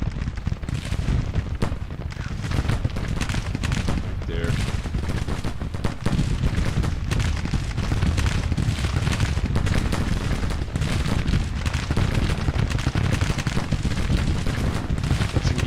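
Civil War musket volleys and artillery fire at the Battle of Stones River in the strategy game Grand Tactician, a dense, continuous rattle of distant gunfire with scattered heavier booms, steady and loud throughout with no talk.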